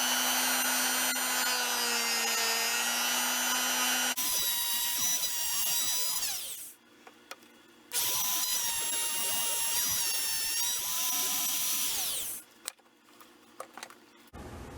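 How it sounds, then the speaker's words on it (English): A wood router cutting a thumb cutout into the wooden stock of an M1912 Norwegian Krag carbine, a loud, steady high whine that runs in two long passes with a brief pause between them, then stops. "So I'm going to do that right now on the router."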